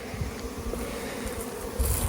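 Honey bees from a laying worker colony hive buzz steadily in a loud close swarm drone, outdoors at the edge of the woods, with a few rustling bumps.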